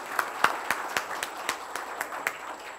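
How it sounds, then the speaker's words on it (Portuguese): Scattered clapping from a seminar panel audience, a few hands producing irregular sharp claps at moderate distance over a quiet room. "E eu queria pedir uma salva de palmas aqui para esse painel."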